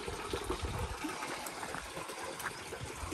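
Water trickles and flows near an old village stepwell overgrown with trees, a soft continuous watery rush with light bubbling detail, fairly quiet and steady with no voices.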